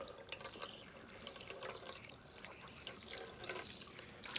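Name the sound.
running water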